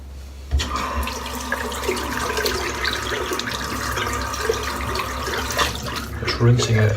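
Head Blade razor rinsed under a running tap, a steady close splash of water with brief bursts of stronger spattering as the blade moves through the stream.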